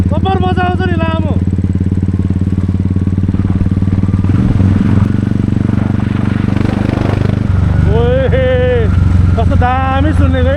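A motorcycle engine drones loudly and steadily while riding a muddy dirt road in Salbari, Jhapa, with the revving pitch shifting slightly; people talk over it at the start and end.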